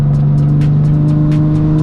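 A Nissan 350Z with a full HKS exhaust drives along with a steady, loud engine drone at a constant pitch, heard close up from inside the car, with no clear gear change standing out.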